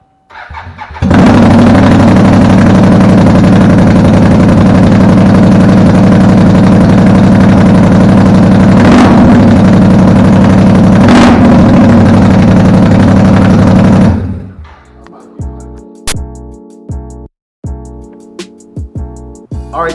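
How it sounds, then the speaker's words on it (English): A 2018 Can-Am XMR 570 running a straight pipe with no exhaust roars loudly and raw for about thirteen seconds with two sharp revs, then cuts off, leaving scattered clanks and quiet shuffling. "we just took the stock pipe off, and this is what it sounds like, just straight pipe, no exhaust"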